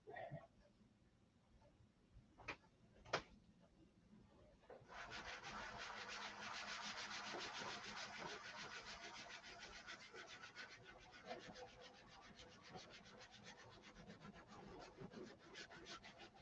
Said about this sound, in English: I'm just a rubbing and a sanding.